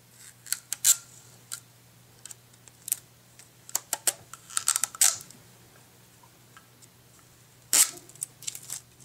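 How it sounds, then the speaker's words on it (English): Crinkly plastic wrapper peeled off an Apple iPod Shuffle box crackles and snaps in short bursts, with a few sharper tears and quiet pauses between, close up and fairly soft. "there's a little wrapper here to pull off"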